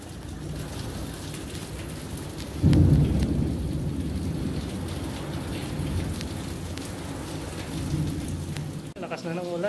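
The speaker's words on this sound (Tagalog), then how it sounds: "Lakas na ng ulan guys, oh." Steady heavy rain hisses through a storm on Corfu as a sudden nearby thunder crack booms and rumbles away, the downpour continuing loud afterward with a brief voice at the very end.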